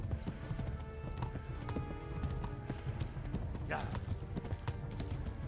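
Horse hooves pound steadily at a gallop in the medieval video game Kingdom Come: Deliverance, a dense continuous clatter mixed with game ambience and a brief whinny-like sweep partway through.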